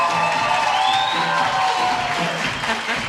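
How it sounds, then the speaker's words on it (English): Corporate event audience at an impact report launch applauding and cheering as the CEO walks on stage, a loud continuous wash of clapping with whoops and crowd noise throughout. "A warm round of applause."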